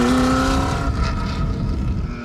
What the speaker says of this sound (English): With George behind the wheel, the GT40 performed as if we were on a warm-up lap at Lamar Sebring.